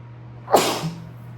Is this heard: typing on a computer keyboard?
no